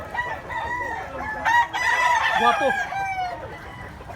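A big white-legged rooster in rural Cebu clucks and lets out a loud crow close by, with someone speaking briefly at the start.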